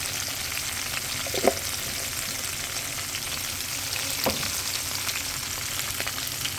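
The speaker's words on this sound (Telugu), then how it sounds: "ఇందులో జీలకర్ర వేసుకున్నాను." Cumin seeds fry in hot oil for a pottu pachadi, giving an even, close sizzle with a couple of brief stirring clicks and no voices.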